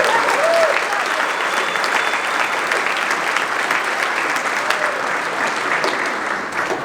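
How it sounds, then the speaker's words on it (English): Audience at a HuskerCatholic gathering breaks into steady, dense applause that fills the room for several seconds, with faint voices mixed underneath. "Can I get an applause for God?"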